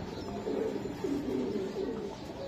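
Racing pigeons coo softly at a farm, a run of low, repeated throaty calls with a faint background murmur.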